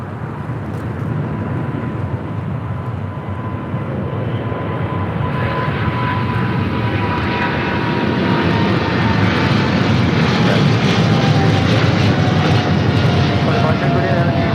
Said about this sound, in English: This is China Airlines Cargo 5382 taking off to Miami on a 777 freighter.